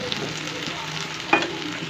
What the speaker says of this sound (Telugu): ఇప్పుడు మధ్య మధ్యలో ఒకటి రెండు సార్లు మూత తీసి కలుపుకోవాలి అడుగు పట్టకుండా